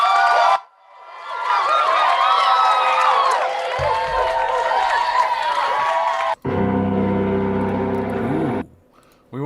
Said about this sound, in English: Play some sound effects and clapping.